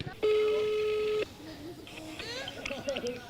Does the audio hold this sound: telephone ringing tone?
yes